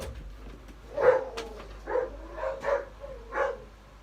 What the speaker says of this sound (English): my dogs have gone psychotic